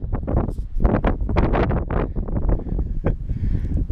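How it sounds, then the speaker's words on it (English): Strong gusting wind of about 30 miles per hour buffets a campsite, a loud continuous roar with rushing surges battering the microphone close up, no voices. "we're guessing the wind was up to about 30 miles per hour"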